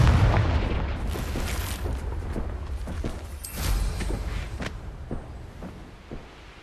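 Confringo blasting spell detonating in the video game Hogwarts Legacy: a rumbling explosive burst followed by scattered crackling pops and debris impacts, fairly close and moderately loud, with no talking.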